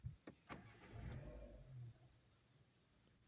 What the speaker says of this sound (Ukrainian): Заводиться автомобіль кнопкою.